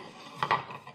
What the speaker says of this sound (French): pour la salade je vais couper très fin comme ça